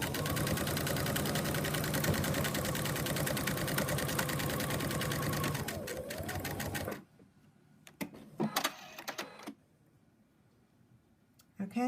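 A sewing machine stitching fabric, running in a steady fast mechanical whir for several seconds before slowing and stopping, followed by a few clicks and handling noises.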